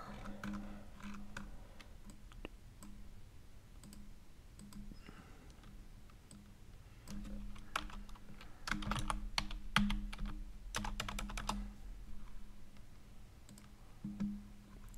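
Computer keyboard typing and backspacing: quiet, close clicking keystrokes in irregular bursts, with a denser run of rapid key presses in the middle, alone without talk.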